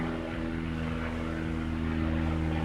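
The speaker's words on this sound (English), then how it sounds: "So hold on, some plane going by." A propeller airplane drones steadily as it flies overhead, a continuous low engine hum with strong harmonic tones that holds even and loud throughout, with no talking.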